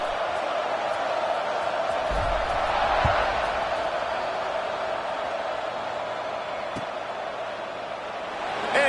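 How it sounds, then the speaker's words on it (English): A stadium crowd at an American football game in a video game, a continuous roaring wash of noise held at moderate level after a scoring drive, with a couple of brief thumps and no clear speech. "this crowd is feeling themselves after that last drive."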